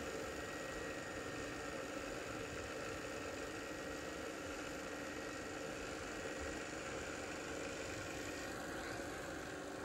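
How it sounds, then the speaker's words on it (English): A TOS FNK 25 vertical turret milling machine runs its spindle at 90 rpm, giving a steady, even mechanical hum with a fine vibrating texture, constant in level throughout with no talking. "The spindle speed has been increased to 90 rpm."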